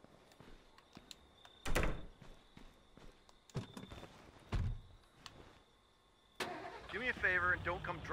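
A car engine starts and runs in the State of Decay video game, among footsteps, door thunks and other game sounds, with a voice talking toward the end.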